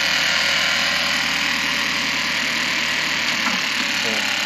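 A 2016 Chevrolet Cruze (Gen 2) engine idles steadily after cranking, a constant close hum with no words spoken.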